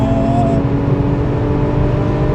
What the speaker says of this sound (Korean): 내가 급가속을 했을 때도 이 느낌 차이가 뭔가 그 사기통 엔진의 한계점은 분명히 느껴집니다